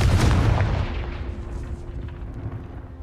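The Confringo fire spell in Hogwarts Legacy goes off as one loud, near blast that booms and then fades into a low, rumbling tail.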